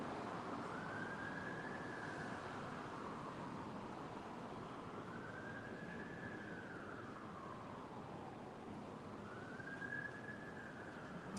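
A siren slowly wails up and down in long repeating sweeps, heard over a constant rumbling background, somewhat distant.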